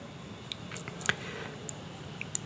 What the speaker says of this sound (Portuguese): Enquanto eu estou mastigando